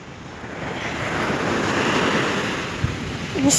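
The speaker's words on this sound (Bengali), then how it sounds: "ইস আওয়াজ কি পানির ঢেউয়ের" Sea waves roll and crash on Jumeirah Beach in Dubai as a loud, continuous surf roar mixed with gusty wind buffeting the microphone.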